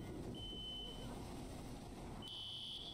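Electronic fire alarm tone going off in the EmergeNYC firefighting video game, a faint high beep that sounds briefly, stops, then starts again over a low background rumble.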